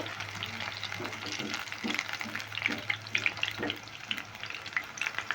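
Crispy potato snacks fry in oil over medium heat, a soft steady sizzle with bursts of crackle and stirring clatter, fairly quiet and close, with no voices.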